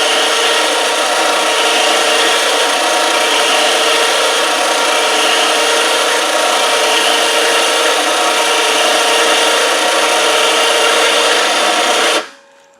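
An electric winch spooling new synthetic winch cable onto its drum, a loud steady motor whine with rubbing drag running unbroken for about twelve seconds before cutting off abruptly.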